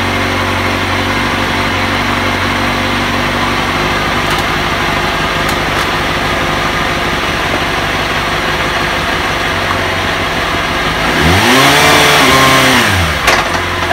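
A Kawasaki race motorcycle fitted with a quickshifter fires up after a steady whirring idle-like drone, then its engine climbs in a loud rising rev and drops back, close and unaccompanied by talk.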